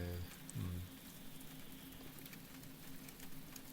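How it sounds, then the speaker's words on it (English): Soft steady rain patters on a surface as constant low background noise, faint and even throughout, with no talking. "Luckily, the sort of background rain, I think, hides most of it."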